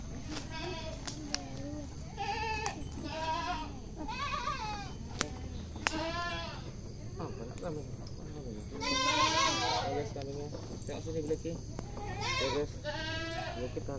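Goats bleat repeatedly in a rural setting, several loud wavering calls from different animals spread across the clip, some overlapping, with a voice talking softly in the background.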